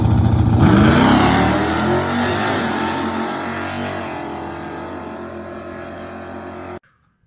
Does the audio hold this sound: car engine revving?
yes